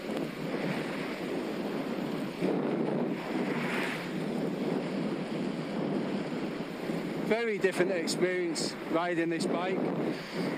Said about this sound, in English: it being a very windy day today